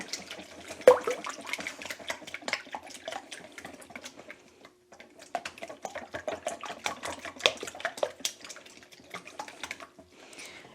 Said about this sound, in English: I just whisk them together